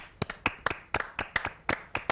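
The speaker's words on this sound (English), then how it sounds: "The most applause I've ever received in my life." A studio audience claps in sparse, uneven bursts of sharp hand claps, close and fairly loud, with no voices over them.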